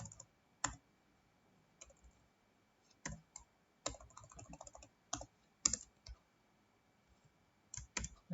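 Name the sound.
typing HTML code on a computer keyboard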